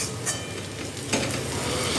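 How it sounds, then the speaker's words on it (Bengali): Chopped water spinach (kalmi greens) drops into a hot pan of sizzling onion and garlic, with a burst of hissing and stirring scrapes. "এই অবস্থায় আমি এই কুচিয়ে রাখা শাকটা দিয়ে দিলাম"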